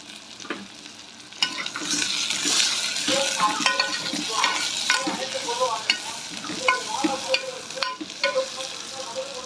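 Onions, curry leaves and green chilies fry in hot oil for a mutton bone soup, a steady close sizzle broken by repeated spoon scrapes and stirs against the pan.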